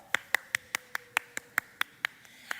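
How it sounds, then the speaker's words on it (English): Sharp, evenly spaced claps, about a dozen single hand claps in a steady rhythm, close and fairly loud, honouring a drummer at a women's art festival stage; no talking over them. "Give him a big round of applause."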